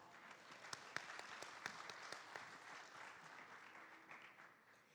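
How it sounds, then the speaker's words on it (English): An audience at a Rotary gathering in Taipei breaks into a steady round of applause lasting the whole stretch, dense hand claps with a few sharper claps standing out, fairly even in loudness. "He gives you a round of applause."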